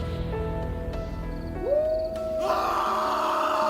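A man's loud scream carries from a distance as a horror audio drama effect: a single sustained wailing cry that rises and holds over a dark, rumbling ambience, with no talk.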